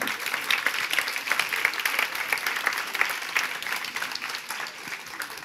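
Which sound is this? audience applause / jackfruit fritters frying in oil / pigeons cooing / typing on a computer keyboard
audience applause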